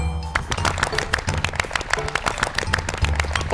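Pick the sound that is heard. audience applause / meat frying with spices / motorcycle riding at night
audience applause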